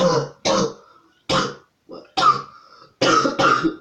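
A person who is slightly ill coughs in several short, harsh bursts with brief pauses between them, close to the microphone.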